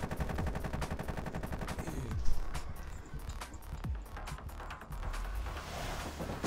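Gunfire in the video game Hitman: sustained rapid automatic fire rattles close and loud, with steady streams of shots punctuated by heavier single blasts and occasional deeper thuds throughout.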